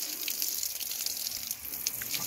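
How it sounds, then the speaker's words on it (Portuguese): Tap water pours steadily over desert rose seedlings as they are watered, giving a continuous close splashing hiss with no pauses. "Com água da torneira normal."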